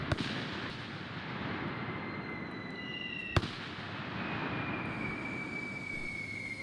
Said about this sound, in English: And those are those mortar rounds going off.